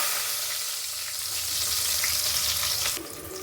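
Onions sizzle steadily as they fry in hot oil for a fish curry, a dense continuous hiss with faint crackles that stays close and even throughout.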